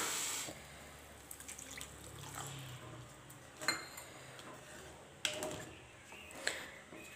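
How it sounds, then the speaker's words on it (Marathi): Water is poured into barnyard millet in a cooking pot, a faint, quiet trickle and splash with a few small knocks and drips scattered through, with no talking. "आता आपण पाणी घालूया यामध्ये।"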